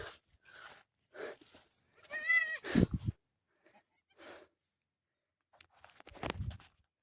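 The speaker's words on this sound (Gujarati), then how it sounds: "બે બાકરા." Goats bleat in short bursts, one long wavering bleat standing out near the middle and another loud call near the end, with quiet gaps between and no talk over them.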